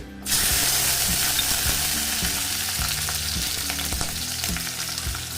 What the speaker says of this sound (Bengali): বেশি পরিমাণে রসুন আর কাঁচা লঙ্কা আমি দিয়ে দেব এই গরম তেলে।